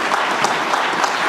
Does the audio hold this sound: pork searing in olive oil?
no